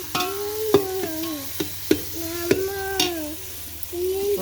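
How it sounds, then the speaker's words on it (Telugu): Mutton curry cooking in a pot on a gas stove, a steady sizzle with repeated stirring scrapes and clanks of a spoon against the vessel, close and fairly loud, no talk. "అది ఇప్పుడైతే మటన్ కర్రీ అయితే గ్యాస్ మీద ఉడుకుతుంది"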